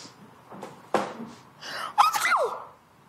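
A person sneezes during a Turkish television drama scene, with a sharp intake of breath followed by a forceful, voiced sneeze burst, close and fairly loud in an otherwise quiet room.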